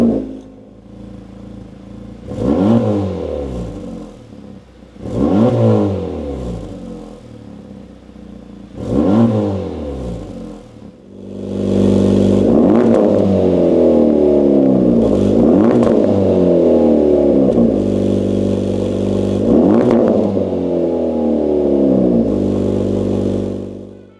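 A 2024 Acura Integra Type S fitted with an MBRP catback exhaust revs up several times in short, sharp bursts, then holds a long, loud, sustained rev close by before settling, with no voices.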